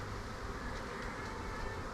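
A dense, steady buzzing of many bees, continuous and close, filling the whole stretch without any voices.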